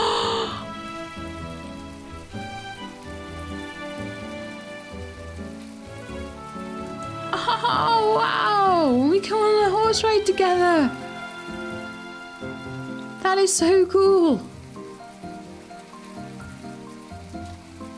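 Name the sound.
rain falling in the video game My Time at Portia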